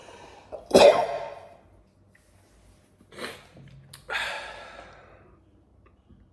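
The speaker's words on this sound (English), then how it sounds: "I'm going to sneeze." A single loud, abrupt human sneeze, close to the microphone. A couple of softer breathy sniffs and exhalations follow in a quiet room.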